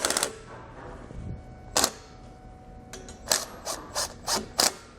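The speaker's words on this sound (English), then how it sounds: "We're going to use a 14mm socket to do so." A ratchet fitted with a 14mm socket tightens base plate bolts on a 2017 Honda Civic, giving close, crisp clicking strokes, first a few isolated clicks and then a quicker run of ratchet bursts near the end.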